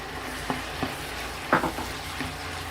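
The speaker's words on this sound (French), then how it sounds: "je vais faire revenir jusqu'à ce que l'oignon soit bien cuit" Onion and two crushed garlic cloves sautéing in a pan, a steady soft sizzle broken by a few sharp stirring scrapes and clicks, close and fairly quiet.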